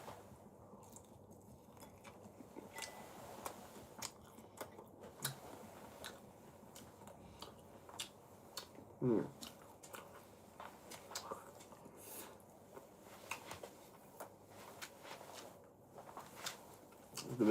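Crispy guobao pork roll being bitten and chewed close up: a steady run of faint crunches and clicks over quiet room noise, with no talking.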